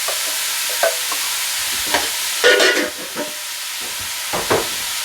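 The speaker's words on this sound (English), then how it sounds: "We're going to cook the onion and beef until the beef is brown for 5 to 7 minutes." Diced onion and beef frying in a pan, a loud broad hiss with a few scattered stirring scrapes and clicks, close and without talk.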